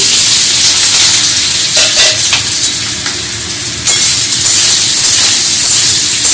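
Potatoes fry in hot oil with panch phoron and chilli, producing a loud, close, continuous sizzle and hiss broken by a few sharp bursts and stirring sounds, with no talking.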